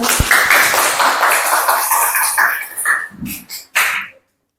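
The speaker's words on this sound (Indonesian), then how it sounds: "Tepuk tangan buat Dinda" A class of students claps for a group representative in a school classroom, a brisk, fairly loud burst of mixed hand clapping that tapers off into a few scattered claps and brief voices before falling silent.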